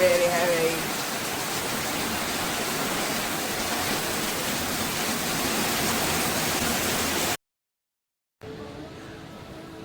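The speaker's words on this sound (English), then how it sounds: "that is the rain falling on the top of my shed at the moment and dripping off my patio." Heavy rain drums steadily on a shed roof and drips off a patio in Perth, a dense continuous wash close by that cuts out briefly near the end before resuming more faintly.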